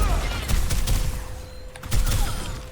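Sigma's orbiting spheres in Overwatch 2 burst on contact in a quick string of sharp, crackling pops with a low thump, set against busy in-game noise.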